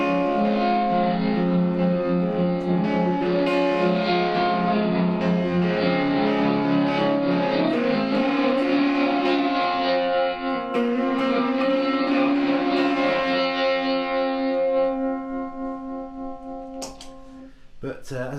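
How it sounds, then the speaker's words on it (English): Sustained electric guitar notes swell and smear together in a washy, backwards-sounding reverb from a reverse reverb pedal, loud and continuous before fading near the end. "So this takes what would normally be the reverb sound and plays it backwards."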